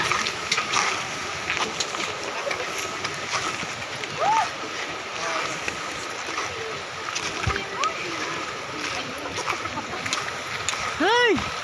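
Strong river current rushes and splashes as people cross the Lawasan River in Norzagaray, Bulacan, with sudden sloshes of water breaking through. Voices talk over the steady flow.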